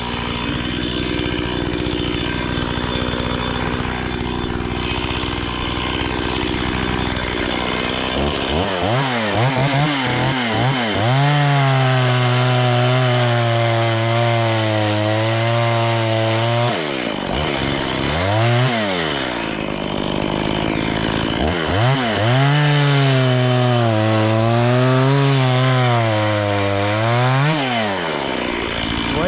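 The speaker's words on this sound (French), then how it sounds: "c'est vraiment une super bonne tronçonneuse." A Stihl MS 170 chainsaw with a modified exhaust idles, then revs up and bites into wood in two long, loud cuts, its droning pitch dipping under load.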